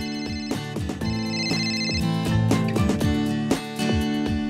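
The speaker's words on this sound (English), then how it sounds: "And when you can't find your phone, your GoKey will make it ring." A phone ringtone, set off from a GoKey keychain to locate the handset, plays as a bright, repeating melodic jingle with chiming tones, loud and steady with no talking.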